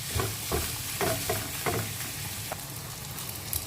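Egg is stirred into fried rice in a hot pan, giving a steady sizzle broken by several scraping stir strokes. The cooking is close and no one talks.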